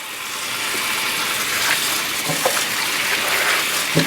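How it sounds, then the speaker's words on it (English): Collard greens being rinsed in water after a baking soda soak, with steady running water from a tap and occasional soft clicks and knocks of handling in the sink. "this is the first rinse here after the baking soda was introduced"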